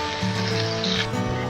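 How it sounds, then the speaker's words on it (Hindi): Two large onions hit hot oil and sizzle briskly in a pan for a karahi gravy, a short, close, steady hiss with slight bubbling. "2 अदद मैंने बड़ी साइज़ की प्याज ली है, ये भी हम डाल रहे हैं ऑयल में।"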